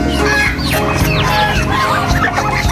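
Several chickens, both hens and roosters, cluck and squawk loudly and close together in a continuous, overlapping chatter, with the occasional sharper call rising above the flock.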